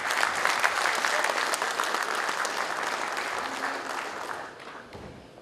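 A crowd at a grand reception for Dr Naresh Aggarwal breaks into loud, sustained clapping, dense and even throughout before tapering slightly at the end.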